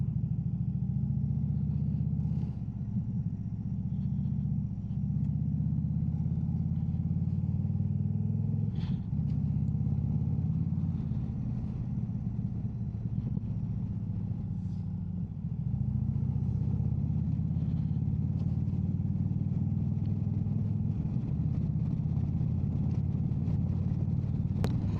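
An Indian Springfield motorcycle cruises along a country road, its engine rumbling low and steady with wind rush over it, plus a few short bumps and shifts in tone.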